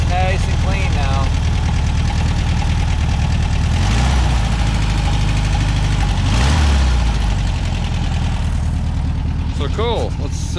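A 1963 VW Beetle engine, just fitted with a new coil, distributor cap and rotor, idles steadily and loudly up close with an even low throb while someone speaks briefly over it.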